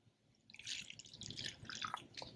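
Filtered liquid pours into a clean plastic beaker in a short trickling, dripping stream, close and fairly quiet, with no talking.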